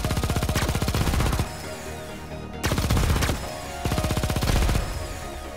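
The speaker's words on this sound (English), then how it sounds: "Our guns just shred these things." Rapid automatic gunfire from the space shooter video game Xenoraid rattles out in three loud, dense bursts, separated by short pauses.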